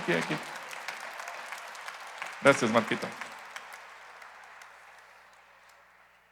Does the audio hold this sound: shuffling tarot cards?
no